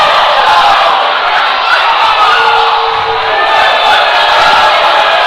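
A high school boys basketball gym crowd cheers loudly and continuously after three-pointers, a dense, sustained roar with shouts rising out of it, close and full throughout.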